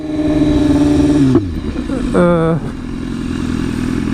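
A 2016 BMW S1000RR fitted with an SC Project exhaust accelerates hard and loud up close, with a sharp quick-shift break and then a rising rev. A person talks over the engine.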